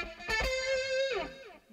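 An electric guitar plays a short solo phrase through pedalboard effects, with a few picked attacks and then a sustained, slightly bending lead note that fades out, heard alone and up close.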